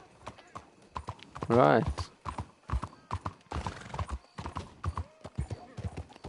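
Horse hooves clip-clop steadily in Red Dead Redemption II, with a horse whinny partway through and someone talking over the hoofbeats.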